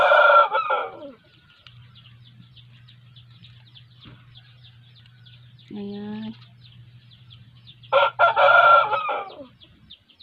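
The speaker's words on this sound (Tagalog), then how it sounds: "Sa labas kasi ng greenhouse may manok, may mga roosters." A rooster outside a greenhouse crows clearly nearby, with bursts of clucking or crowing at the start and end, a steady low hum throughout, and a brief spoken word.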